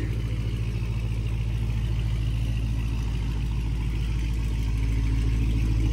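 A Dodge SRT 392 V8 runs loud and close with a steady, deep rumbling drone, its low pulsing thrum holding at a fairly even pitch rather than climbing sharply, with no voices over it.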